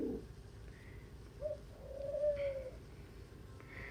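A pet dove kept indoors gives a few soft, low coos, a short note and then a longer rising-falling one, faint and close against a quiet room hum.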